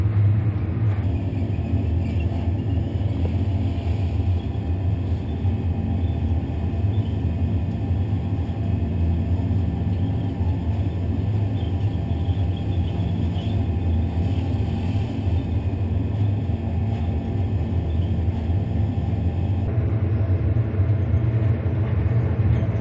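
Flight simulator aircraft engines at take-off power, lined up on runway 26 left: a steady, loud low rumble with an even roar holding constant throughout, no voices.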